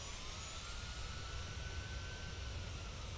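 Jet airliner engines in Microsoft Flight Simulator roar in a loud, continuous rush, with a high whine rising slowly as the throttle comes up.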